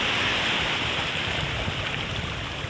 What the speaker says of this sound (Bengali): বিশাল ঢেউ